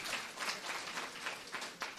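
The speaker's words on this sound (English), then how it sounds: "let's give our students as well as the educators a round of applause" Steady applause from the audience at a Dr. Martin Luther King Jr. oratorical contest, honoring students and educators; broadband and fairly soft, running unbroken for two seconds with no talk over it.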